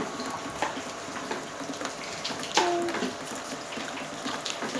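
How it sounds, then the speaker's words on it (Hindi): Water drips from a leaking roof into buckets set out during heavy July rain, with a few distinct plinks standing out over a steady background wash of water. "हमारी छत टपक रही है"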